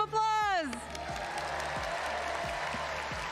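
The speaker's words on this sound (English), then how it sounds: "Let's give them a big round of applause." Audience applause at the 2022 Pokémon World Championship, a broad wash of clapping from a large crowd that starts after a short voice and continues steadily at moderate level.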